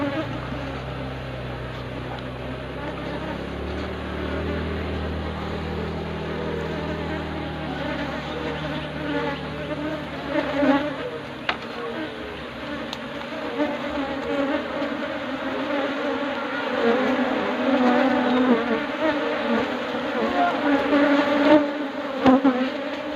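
Honey bees buzz densely around an open hive during a honey harvest, a constant swarming drone close to the microphone that rises and thickens over time, with faint rustling and no clear speech.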